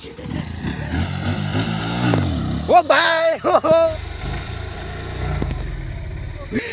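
A new motorcycle engine revs up and down in short pulses beneath loud, excited voices of people talking close by.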